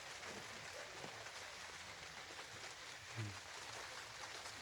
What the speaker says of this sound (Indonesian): Ini pas hujan.